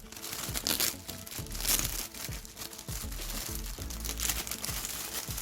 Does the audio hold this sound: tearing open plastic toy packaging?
yes